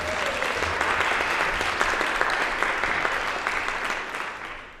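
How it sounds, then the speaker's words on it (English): An audience breaks into warm, steady applause with many hands clapping at once, sustained for several seconds and then tapering off toward the end. "I wasn't fishing for an applause"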